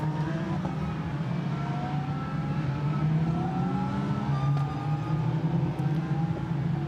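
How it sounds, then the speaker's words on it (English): Lamborghini Super Trofeo race cars accelerate downhill at Spa, their engines blending into a loud, continuous roar, with several rising pitches that overlap as the pack builds speed, and no voices. "So the cars now accelerate down the hill, heading to campus"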